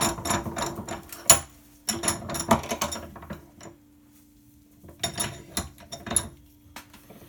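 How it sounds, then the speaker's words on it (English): A bench vise is tightened by hand, giving irregular metallic clicks, knocks and scraping turns in several bursts with a quiet pause in the middle, near and fairly soft. "So I'm just going to lock it into the vise."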